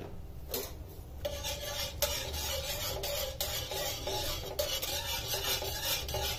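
Custard is stirred into boiling milk in a pan for mango ice cream, producing a steady, close scraping and swishing that runs continuously under a soft hiss, with no talking.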